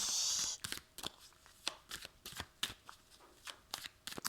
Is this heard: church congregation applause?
no